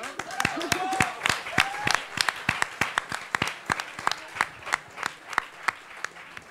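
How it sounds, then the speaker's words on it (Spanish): An audience at a panel discussion on big data applauds, a steady crowd clapping with some louder individual claps standing out, and a voice briefly heard over it. "Un aplauso, ¿no?"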